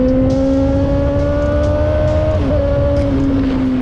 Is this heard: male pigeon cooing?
no